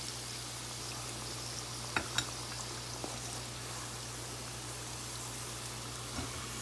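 Pork ribs deep frying in a pot of hot oil, a steady low bubbling hiss throughout with a couple of faint clicks near the start and end, no talking.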